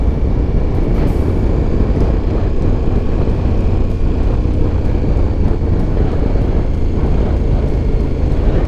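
Steady, loud wind roar buffeting while riding along a road through farmland near Hamm in northern Germany, a continuous dense rush with no talking.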